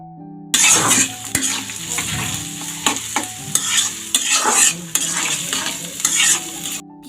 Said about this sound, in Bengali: তেলটা ভালো করে গরম হয়ে গেলে এর ভিতরে পেঁয়াজ কুচি দিয়ে দিবে।